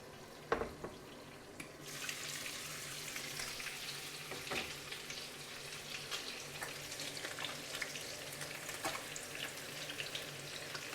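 Fresh pork frying in a pan, a soft, steady sizzle that starts right after a brief knock and continues quietly without talk.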